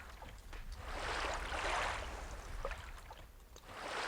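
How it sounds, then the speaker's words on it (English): Soft, soothing water waves lap in the game EverQuest, a faint, steady wash that swells and recedes over a few seconds, heard alone in the background. "I like the sound in the background, the little soothing waves going off there"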